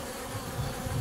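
Honeybees swarm and buzz around an opened Layens hive in an apiary, a dense continuous drone close by with no voices.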